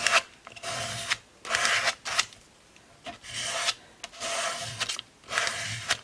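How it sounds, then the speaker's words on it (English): Art medium is scraped across an art journal page using masks and stencils, giving rough rasping strokes in about five separate passes with quiet gaps between, near and clear with no talking. "scraping that all over"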